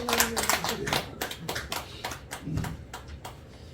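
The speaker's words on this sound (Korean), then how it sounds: "우리 박수 한번 해주세요." Church congregation clapping in applause during a Korean Sunday worship service, a dense, steady patter of many hands lasting a few seconds in a reverberant hall.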